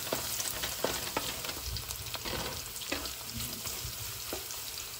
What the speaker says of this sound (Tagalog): Igisa natin ang bawang.